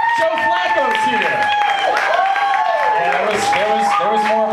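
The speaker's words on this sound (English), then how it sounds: "There was more applause for Joe." A crowd at a public event in Reisterstown applauds for Joe Flacco, continuous clapping and cheering layered with loud voices and shouts.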